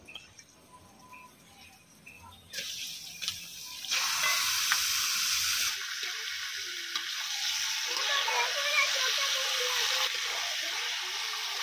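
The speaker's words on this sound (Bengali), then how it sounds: "এরপর মাংসটা দিয়ে দেবো।" Meat tossed into hot spiced masala in a kadai, a quiet stirring start giving way to a loud, steady sizzle and hiss of frying that continues under faint background sounds.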